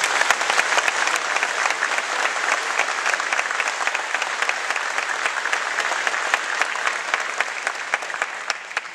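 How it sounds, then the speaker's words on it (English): A crowd claps steadily and loudly for Marines at a Marine Combat Training graduation ceremony at Camp Geiger, North Carolina, the dense applause sustained throughout without a break. "please join me in giving these Marines a round of applause for their hard work"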